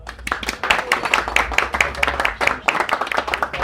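Audience clapping at a Turkish community gathering, a steady run of sharp, fairly close handclaps with a low rumble beneath and some background voices mixed in.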